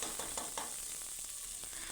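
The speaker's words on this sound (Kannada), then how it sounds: "ಈರುಳ್ಳಿ ಸ್ವಲ್ಪ ಕೆಂಪಗಾಗ್ತಿದ್ದಂಗೆ 1 ಟೇಬಲ್ ಸ್ಪೂನ್ ಆಗುವಷ್ಟು ಶುಂಠಿ ಬೆಳ್ಳುಳ್ಳಿ ಪೇಸ್ಟ್ನ ಸೇರಿಸ್ಕೊಳ್ತಾ ಇದ್ದೀನಿ" Onions frying in a pan with ginger garlic paste being stirred in for mutton sambar, a steady close hiss of sizzling oil with a few soft stirring scrapes and no voices.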